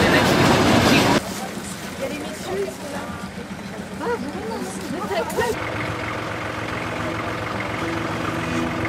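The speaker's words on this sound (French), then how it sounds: "Notre trans-mongolien se présente en gare, tiré par une loco RZB." The Trans-Mongolian train pulled by a locomotive rolls into a station, starting with a loud rushing roar that drops to a steady rumble with squeals and creaks, then a low sustained engine drone, with talk over it.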